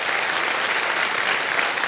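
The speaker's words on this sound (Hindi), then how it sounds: "तालियां बज जाए" Studio audience on the quiz show Kaun Banega Crorepati bursts into loud, dense applause, a thick continuous wash of clapping close up with no talk over it.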